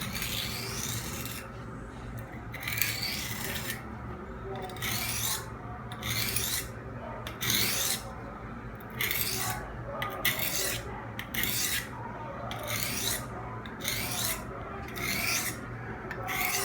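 A knife is pressed down firmly and drawn across a rough-grit sharpening stone in a long series of steady, rasping strokes, close and even in rhythm, with no voices.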